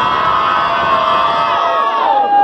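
A large crowd at a Brazilian rap battle final cheers, whoops and shouts continuously and loudly, with a dense roar of many voices throughout.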